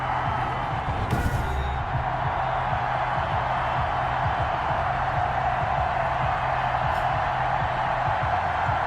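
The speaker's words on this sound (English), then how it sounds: "The enthusiasm of this Cincinnati crowd in full effect a moment ago as their Bengals took the field to the delight of this sold-out crowd." A sold-out stadium crowd in Madden 21 roars steadily as the Cincinnati Bengals take the field against the Los Angeles Chargers, a dense, continuous wash of cheering that holds at an even level throughout.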